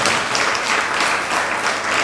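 Steady, dense audience applause from a crowd at a spiritual discourse, many hands clapping continuously at even loudness, with no voices over it.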